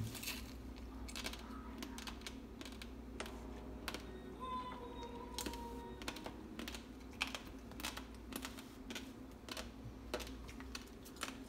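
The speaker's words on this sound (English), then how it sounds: "Cut the onion." A knife cuts through an onion while breakfast burritos are prepared, giving quiet, irregular taps and clicks on a board over a low background hum.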